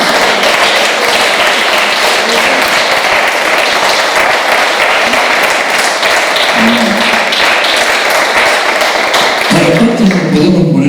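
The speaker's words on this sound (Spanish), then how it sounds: "¿Cuántos le pueden dar un aplauso al Señor?" A church congregation applauding, dense loud sustained clapping filling the whole stretch, with a few voices calling out near the end.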